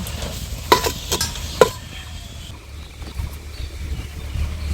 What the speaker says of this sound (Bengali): তো এভাবে অনবরত আমাকে এইভাবে নেড়েচেড়ে যেতে হবে